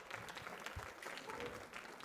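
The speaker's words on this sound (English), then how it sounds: "So let's have an applause for Martin." An audience at a student research awards event gives faint, continuous applause for a thesis winner, with quiet voices mixed in.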